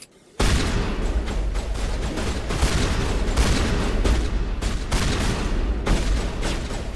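Sustained gunfire in Mass Effect 1 during a firefight in a med clinic: a dense, loud barrage of rapid shots and booms that starts abruptly after a brief quiet moment and runs on without pause.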